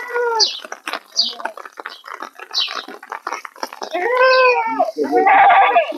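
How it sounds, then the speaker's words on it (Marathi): Katewadi goats, one a pregnant doe a month along, bleat several times over a farm background, with a person talking between and over the calls; the strongest, longest bleat comes near the end. "हे बघा काटेवाडी शेळी आहे."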